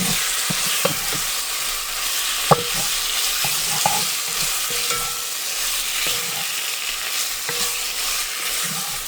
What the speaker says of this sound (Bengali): তেল লবণ দিয়ে দিচ্ছি, এবার কষান দিব এটারে